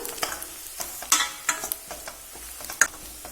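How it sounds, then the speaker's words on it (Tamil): Chili powder and turmeric powder being stirred and fried in a pan, with irregular close scrapes and sharp clicks of the spoon against the pan over a faint sizzle. "கூடவே ஒரு 1/4 தேக்கரண்டி அளவுக்கு மஞ்சள் பொடி, ரெண்டும் சேர்த்து கொஞ்சம் பரட்டி விட்டுடலாம்."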